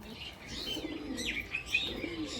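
Pigeons, including young birds, coo softly and repeatedly, with a few higher chirps mixed in, close by and without any talking.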